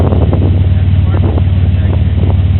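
An engine idles and revs through a rusted-out 3-inch MagnaFlow exhaust pipe, a loud, rough, pulsing low rumble close by, with wind buffeting the microphone.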